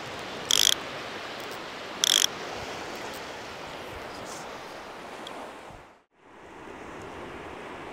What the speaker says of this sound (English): Put my ratchet on.